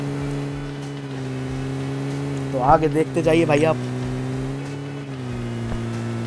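A vehicle engine in a squad-versus-squad battle game drones steadily at close range throughout, while someone talks over it in a brief burst of speech.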